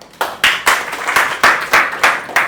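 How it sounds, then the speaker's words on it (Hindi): Clapping during a trigonometry class: roughly nine sharp, evenly spaced claps in a steady rhythm, close and loud with no talk over them. "चलो खुद के लिए ताली बजा लो।"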